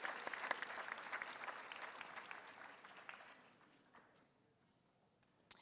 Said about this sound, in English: Round of applause one more time